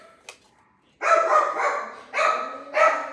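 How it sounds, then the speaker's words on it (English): Several sharp dog barks in quick bursts, close and loud, separated by brief pauses. "dogs are barking"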